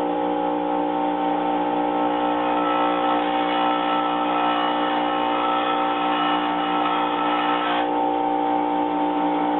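A bench grinder wheel grinds a radius onto an HSS lathe tool blank for a Micromark 7x14 mini lathe, producing a loud, continuous whining hum with a steady grinding rasp that holds nearly unchanged throughout.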